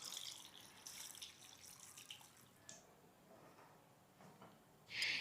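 Coconut pieces being rinsed under running water in a kitchen, a faint, steady trickle and splash with occasional drips and a brief louder gush at the end.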